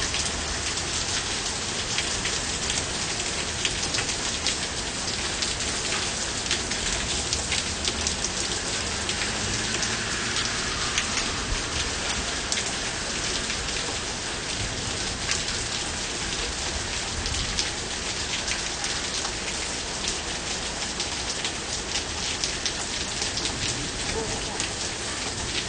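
Intense heavy rainstorm with dense, constant rain pounding on surfaces, loud and close for the whole stretch, with voices talking faintly underneath.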